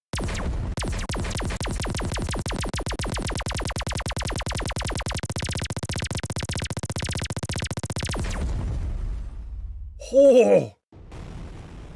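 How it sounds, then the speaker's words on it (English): Rapid, continuous pulsing fire from a Gauss cannon in the space shooter Everspace 2 runs loud for about eight seconds and then cuts off, followed by a brief exclaimed voice. "let's get this nice and clear Gauss cannon"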